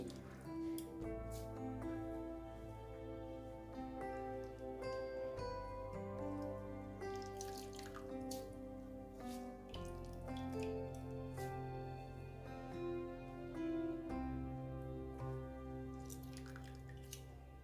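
Water squeezed by hand from grated radish drips and trickles in small, quiet patters against steady background music.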